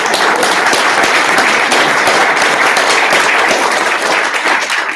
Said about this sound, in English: Round of applause for Carol, I think.